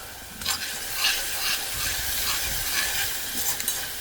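Handful of onions cooking in a pan, a soft steady sizzle with occasional stirring scrapes and clinks, close and fairly quiet.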